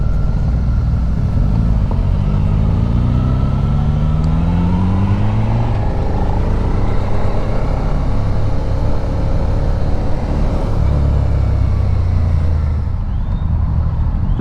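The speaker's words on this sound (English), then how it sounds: "Just a small ride, short little ride on a tiny little SV650." Suzuki SV650 motorcycle ridden on the road, its engine droning loud and steady throughout with rising and falling revs as it accelerates and shifts, wind noise heavy over the whole ride.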